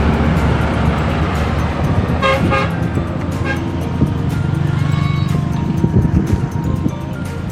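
A truck passes close on a roadside highway with a loud rumbling engine roar, a brief horn toot in the middle and traffic noise throughout.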